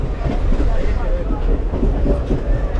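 A passenger train runs on the rail line from Jalandhar to Amritsar in Punjab, heard from on board as a loud, continuous rumble with rhythmic wheel clatter.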